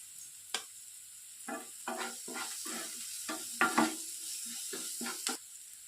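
Chicken pieces fry lightly with salt and turmeric for chilli chicken, a quiet background sizzle broken by repeated close spatula scrapes and stirring taps in an irregular rhythm.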